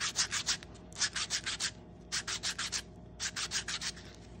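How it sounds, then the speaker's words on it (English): Sandpaper scrubs the edge of a 1 oz copper coin ring in quick rhythmic strokes, three clusters of short scratchy rubs with brief pauses between, close and fairly soft. "A little sandpaper, clean up that edge."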